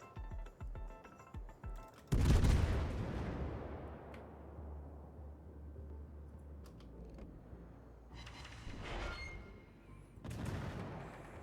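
Guns of the Scharnhorst, a Tier VII premium German battleship in World of Warships, fire a heavy booming salvo with a long rumbling decay, followed later by further distant blasts, with no talk.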